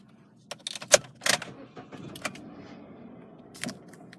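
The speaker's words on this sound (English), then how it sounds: "Just trying to find the key." Car keys jangling and clinking in a hand while someone searches for the right one beside a 5-door hatchback, with several sharp metallic bursts close to the listener.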